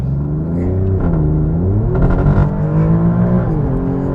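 A 2021 Alfa Romeo Giulia Quadrifoglio engine pulls hard on kickdown, a loud close rumble that climbs in pitch through several gear changes without any talking.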